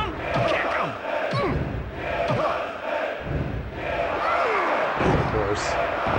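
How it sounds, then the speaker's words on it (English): A wrestling arena crowd in the WWF Attitude video game roars steadily, a loud continuous wall of cheering with thuds and slams from the ring, while commentators talk over it. "Listen to this crowd."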